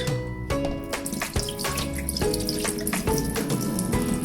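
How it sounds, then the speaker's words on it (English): Water used to wash rice is poured out into a sink, splashing and gurgling steadily for a few seconds in a close indoor space, with no talking. "throw the water out,"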